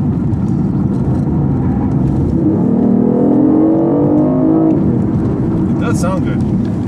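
A 2015 BMW i8 hybrid on a racetrack, its artificially enhanced engine note rising and falling for a couple of seconds beneath people talking in the car.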